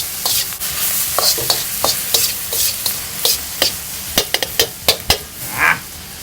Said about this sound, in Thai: จะว่าจะไม่ใส่น้ำแล้วจะคั่วแห้งๆเลย สูตรพี่บอยใส่ใบมะกรูดโรยผัดด้วย